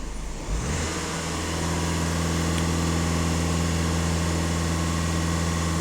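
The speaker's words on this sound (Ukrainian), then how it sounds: "На обертах даю газ в пол." Skoda Octavia A7 with the 2.0 TDI EA288 diesel held at high revs with the throttle floored, a steady loud engine roar that rises in its first second and then sustains evenly with no talk.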